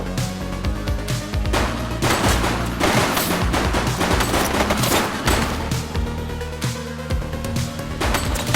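A suspect shooting in The Precinct video game: rapid, loud bursts of gunfire in dense volleys throughout, sharp cracks layered over a booming low rumble.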